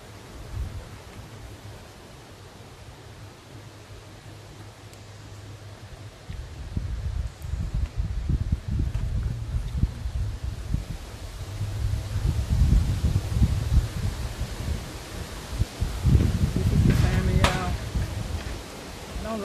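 High wind gusts across an outdoor deck, rushing and buffeting the microphone in low broadband surges that build and grow louder toward the end, with a voice speaking briefly underneath.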